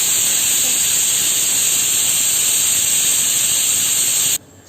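Pressure cooker steam whistle while soup cooks on a home kitchen stove, a loud continuous hissing jet of steam that holds steady and then cuts off abruptly at the end.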